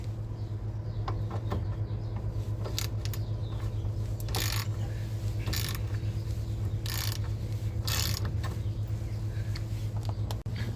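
A ratchet socket wrench works on a Peugeot 207 wheel nut during a wheel bearing and drive shaft job, sounding as irregular mechanical clicks and sharp bursts over a steady low hum, close and fairly loud.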